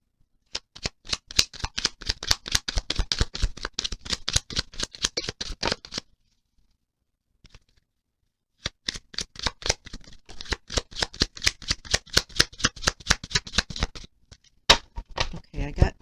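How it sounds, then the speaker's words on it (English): Rapid rhythmic riffling of several decks of cards being shuffled, repeated in bursts with a short quiet pause in between, close and crisp. "as I was shuffling all my decks"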